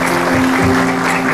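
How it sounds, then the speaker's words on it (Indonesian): Studio audience on an Indonesian TV talk show claps to welcome a guest teacher, a dense, steady burst of applause filling the room with a faint musical tone underneath, lasting only a moment. "Langsung aja kasih tepuk tangan buat Bu Santi."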